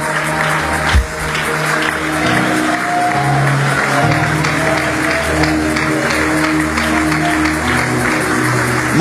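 An audience at a church blessing ceremony applauds loudly and steadily, dense clapping close by, with voices faintly mixed in.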